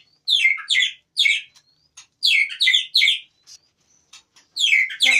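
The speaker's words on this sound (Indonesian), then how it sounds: "Manen anakan murai." White-rumped shama (murai batu) chicks call in quick clusters of high, raspy chirps, close and loud, with short silent gaps between the bursts.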